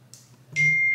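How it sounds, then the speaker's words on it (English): A phone notification dings as a bright, steady electronic tone that starts midway and holds to the end, loud and close, over a low background hum. "my phone keeps dinging through this video"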